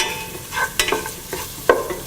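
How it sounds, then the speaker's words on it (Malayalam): Green chillies sauté in hot oil for gobi manchurian, a soft sizzle under a few distinct clacks and scrapes of a spoon against the pan. "എടുത്തു വച്ചിരിക്കുന്ന പച്ചമുളകിട്ട് വഴറ്റുക"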